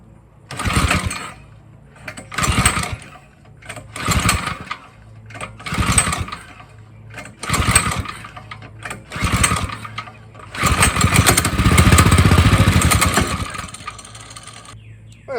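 A cheap minibike's small engine revs in repeated bursts, sputtering and dying between pulls, then runs continuously near the end, loud and close.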